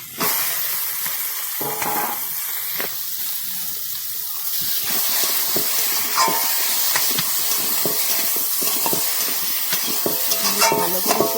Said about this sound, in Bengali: ভাজা ফুলকপিটা দিয়ে দেবো।